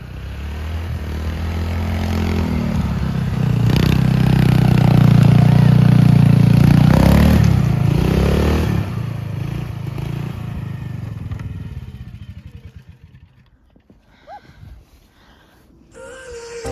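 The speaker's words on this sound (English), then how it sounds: "This beautiful snowmobile." A snowmobile engine swells as it rides closer, peaks in a loud broad roar, then fades away as the machine passes and leaves quieter outdoor sound.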